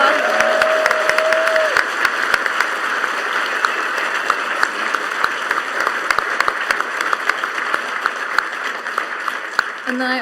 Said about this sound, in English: We get a thank you, round of big applause